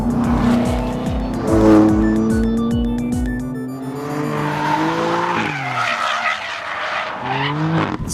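A 2014 Chevrolet Corvette Stingray on track, engine revving loudly with rapid rising and falling pitch as it downshifts with throttle blips, stepped gear changes and a harsh close-up exhaust roar throughout.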